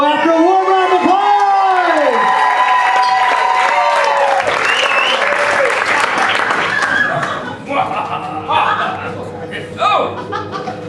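Studio audience at an improv comedy show breaks into loud applause and cheering with whoops, while a performer's voice talks and sings over it. The clapping then thins into a scattered ripple.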